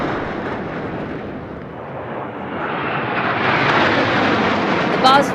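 Military aircraft in Baz formation flying past during India's Republic Day 2022 fly-past, a broad continuous jet roar that swells louder toward the end, with crowd or commentary noise underneath.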